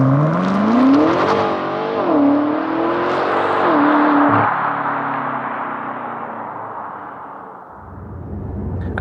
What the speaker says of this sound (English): let's try and see what happens when you launch a 760 horsepower BMW M5 Competition LCI.